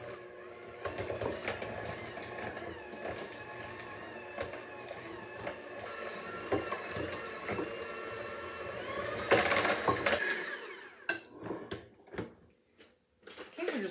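An electric mixer beats chocolate yellow layer cake batter on low speed, a steady close mechanical whir that cuts off and gives way to a few scraping knocks.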